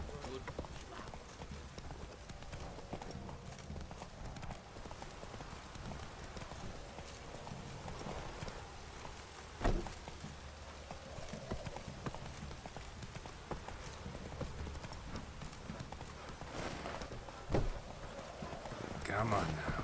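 Clip-clop of Roach's hooves in The Witcher 3: Wild Hunt, a steady hoofbeat rhythm running under ambient game sound, with someone talking over it throughout.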